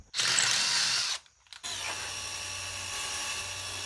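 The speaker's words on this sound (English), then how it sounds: "drill those pilot holes and bore them out to 1/4 inch" A power drill runs at high speed for about a second, pauses briefly, then resumes with a steady, grinding whir as it bores pilot holes into steel.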